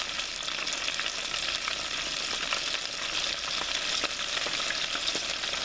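Battered fish pieces frying in a pot of hot oil for a copycat Long John Silver's recipe, a steady dense crackling sizzle that holds at an even level throughout with small popping bursts, close and alone with no talk.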